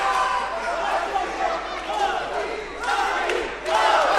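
A fight crowd at a BFC combat-sports event in Bosnia roars with cheering and shouting, loud sustained voices rising in surges, dipping briefly and then swelling again near the end.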